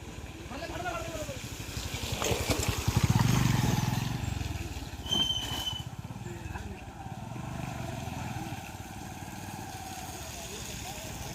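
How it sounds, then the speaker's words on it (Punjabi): A motorcycle passes along a village road, its engine buzz swelling and fading beneath steady talk from a nearby voice. "ਉਸ ਸਾਈਡ ਤੋਂ ਇੱਕ ਹੋਰ ਮੋਟਰਸਾਈਕਲ ਆ ਗਿਆ ਇਸ ਨੂੰ ਵੀ ਦੇਖ ਸਕਦੇ ਹੋ ਤੁਸੀਂ"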